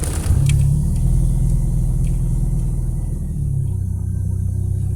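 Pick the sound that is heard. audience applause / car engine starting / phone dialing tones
car engine starting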